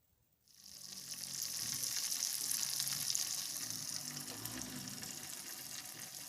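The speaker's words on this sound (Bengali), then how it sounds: "আর একটু উল্টে পাল্টে ভেজে আমি এবার নামিয়ে নিব।" Battered prawn pakoras fry in hot oil, a dense continuous sizzle that rises sharply after a brief quiet start and holds steady and close throughout, with no voices.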